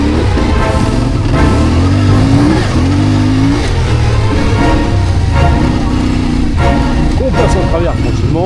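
A trail motorcycle with traction control switched off slides sideways through a tight turn in first gear, its engine revving and wavering loudly and close throughout, with a voice talking over it.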